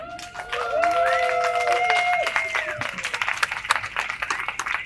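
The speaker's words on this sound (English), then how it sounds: "Keep the claps coming for our amazing cast." A theater audience applauds the cast at the close of a two-act farce about the Battle of Brooklyn, staged at the Old Stone House. Clapping builds into a dense, steady patter with some tonal sounds mixed in.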